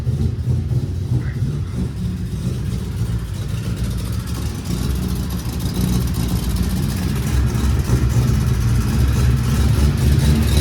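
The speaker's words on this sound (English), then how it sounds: "Super choppy. Big ass fucking Kelford cam." A 1000HP Lexus SC400 engine fitted with a large Kelford cam idles loud and close, its choppy, lumpy rhythm running steadily throughout with a slight rise toward the end.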